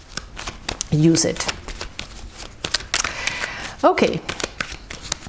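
Tarot cards are shuffled by hand in quick crisp riffles and soft slides, close up, in short bursts while a person talks over them.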